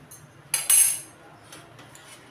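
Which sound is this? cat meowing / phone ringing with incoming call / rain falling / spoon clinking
spoon clinking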